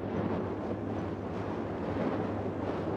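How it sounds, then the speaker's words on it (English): Steady windy ambient drone in the video game Prey, a continuous broadband rush with a low hum underneath, moderately loud and unbroken throughout, with no talking. "It's like a windy noise."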